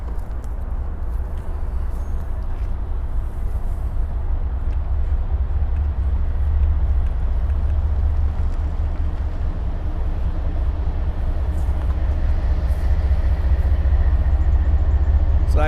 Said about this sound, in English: Looks like we have a container train.